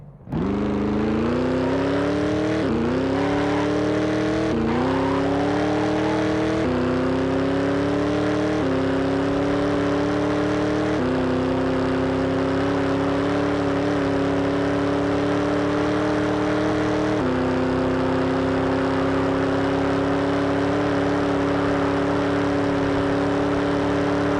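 A car in a racing game is accelerating hard during a top speed run, its engine droning loudly as it climbs through a series of gear shifts, each marked by a brief drop and then a rising whine, with no talking.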